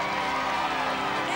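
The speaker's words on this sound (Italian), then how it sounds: "Un ultimo applauso a Fabrizio!" A studio audience applauds dancer Fabrizio with dense, steady clapping and some crowd cheering, loud and continuous throughout, mixed with voices.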